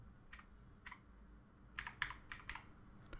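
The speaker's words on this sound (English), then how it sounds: "go to the search box and type control panel" Fingers type on a computer keyboard in a quiet room, a few scattered soft keystrokes followed by a quicker cluster of clicks, close and faint, with no voice.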